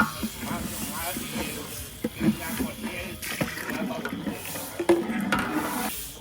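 Water poured into a hot pan of fried rice and onions sets off a close, bubbling hiss of steam, with uneven spurts and a few knocks of utensils against the pan.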